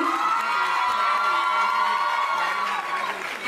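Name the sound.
audience cheering and applause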